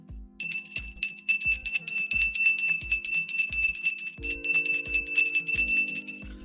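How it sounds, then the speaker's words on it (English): A small bell rings rapidly and repeatedly for several seconds, bright and close, its tinkling strokes in steady rhythm over a faint low hum. "That is probably the last time that we'll ring the US Open bell until 2026 now."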